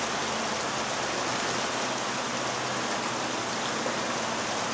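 Spring water flowing hard through a spillway at a spring house in White Springs, Florida. A steady, close rush of water makes a broadband hiss that holds level throughout.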